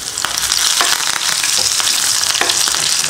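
Mustard seeds, cumin, chopped garlic, a dried red chilli and curry leaves hiss loudly in hot oil for a sambar tempering, with a dense, close sizzle and sharp crackling pops scattered throughout, no voices.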